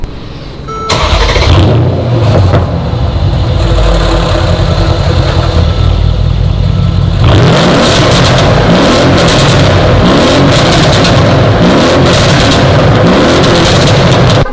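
A loud car engine barks to life and revs hard through straight pipes, roaring and popping with raw, unmuffled bursts.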